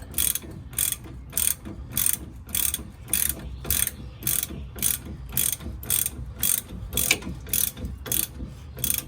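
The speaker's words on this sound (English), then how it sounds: "I'm just gonna snug this up by hand with the socket" A ratchet socket snugs a bolt on a Bilstein 5100 shock on a Chevrolet Silverado, producing a close, rhythmic series of crisp ratcheting clicks in regular bursts, about twenty strokes, with no talk.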